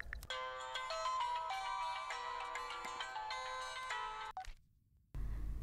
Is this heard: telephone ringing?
yes